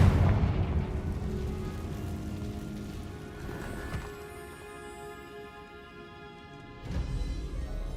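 Confringo spell explosion in Hogwarts Legacy: a loud rumbling fiery blast opening the clip, with a ringing, crackling decay and a second boom near the end.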